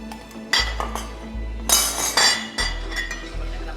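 A metal ladle clinks against a pan while cooking oil is measured in for kimchi fried rice, a few sharp close clanks and scrapes over a low kitchen hum, no talking.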